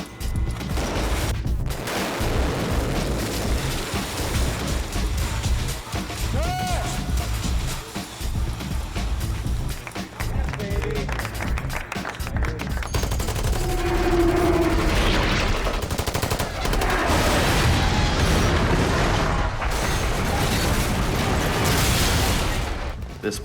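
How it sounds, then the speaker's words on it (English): Sustained loud rumbling blasts and crackling bursts of film-set explosions, with clattering falling debris and rolling booms continuing throughout, no voices. "the explosions, the pipes that would flip up into frame, the debris that would fall"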